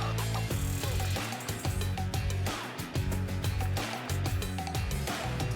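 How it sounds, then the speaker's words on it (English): A ratchet wrench turns on the front driver's door handle mechanism of a Tesla Model S, giving a run of close, quick clicks over a steady tonal hum. "I'm just rolling the wrench over the top to create this clockwise rotation."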